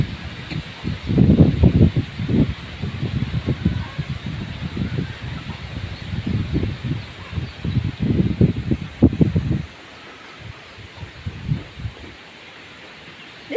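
Strong wind roars and gusts in uneven surges during a rainstorm on a coast, loud and close, with rustling throughout before dropping to a quieter hiss near the end.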